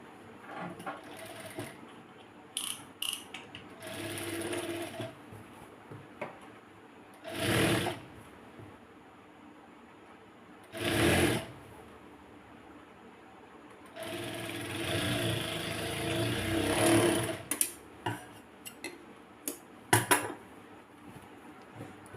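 A sewing machine runs in several separate bursts while topstitching a mianī, the fly placket, onto the front panel of a palazzo pant. The bursts are short and mid-loud, with quiet handling between them and no talk.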